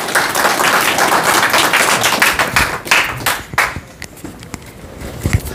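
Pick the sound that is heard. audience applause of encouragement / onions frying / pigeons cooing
audience applause of encouragement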